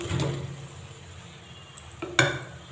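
Soya chunks go into spiced masala with kasuri methi in a pan, heard as soft scraping and stirring with a couple of sharp clinks of utensil against the pan, quiet and close.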